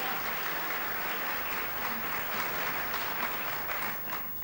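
Audience at a snooker match, the 1995 Thailand Open final, applauding in a steady, dense wash of clapping that holds for several seconds before tapering slightly at the end.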